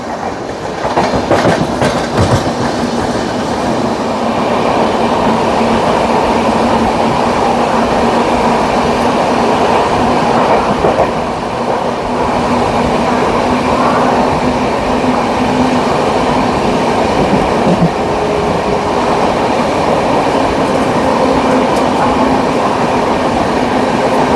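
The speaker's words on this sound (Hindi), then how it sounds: "और सिक्किम महानंदा का ओवरटेक होने जा रहा है गाज़ियाबाद जंक्शन पर" A Sikkim Mahananda express train overtaking at Ghaziabad Junction, heard from a passing train as steady loud rumbling rail noise with rhythmic clickety-clack of wheels over joints throughout.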